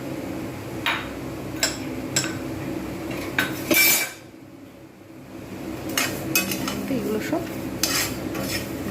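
A utensil scrapes and clinks against a hot frying pan in quick irregular strokes as whole coriander seeds are dry-roasted, with a brief loud clatter midway, followed by a quieter pause and more stirring.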